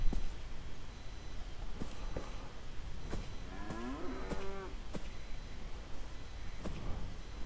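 A cow in the game Beyond Eyes lets out a single drawn-out moo midway through, heard over a low rumbling background with occasional soft clicks.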